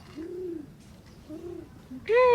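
A voice imitates a pigeon's coo with low, rounded hums, repeated twice at an even pace, followed by a louder higher-pitched vocal sound at the end, with faint background noise.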